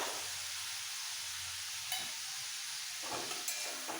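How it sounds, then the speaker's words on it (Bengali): Black mustard paste, thinned with a little water, cooking down in a pan for a Bengali pabda fish curry: a low steady sizzle with a few short stirring scrapes, fairly quiet and without voices. "একটু কষিয়ে নেব"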